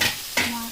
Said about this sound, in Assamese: এতিয়া আমি এইখিনি ফ্ৰাই কৰি লওঁ।